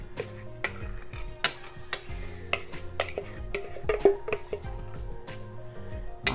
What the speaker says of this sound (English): Now, let's mix it all together.